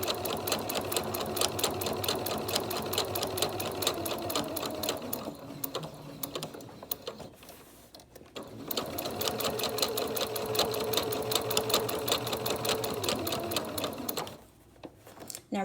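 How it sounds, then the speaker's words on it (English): Sewing machine top stitching around a fabric singer's mask, a fast steady mechanical chatter running in two long bursts with a brief pause between and a short stop near the end. "now we're going to top stitch the mask"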